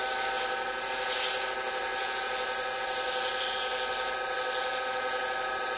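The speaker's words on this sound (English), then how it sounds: "And I'm ready to sand." Sandpaper rubs against a wooden bottle stopper spinning on a lathe, a continuous close hiss with a steady motor hum underneath and slight swells in intensity.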